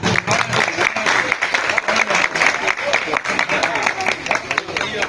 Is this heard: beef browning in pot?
no